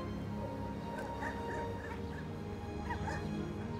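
Dog barks and whimpers in short yips over a steady background hum, moderately close, with no talk over it.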